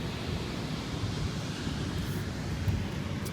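Broad, steady surf noise from waves rolling onto the beach at Oceanside, California, near the pier, heard close to the water with wind rumble over the microphone and no voices.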